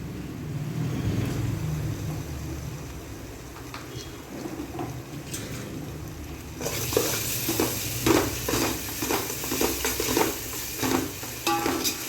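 Ginger garlic paste hits hot masala in a pan for mutton biryani, giving a steady sizzle with scraping stirs that turn louder and busier partway through, with no talk over it.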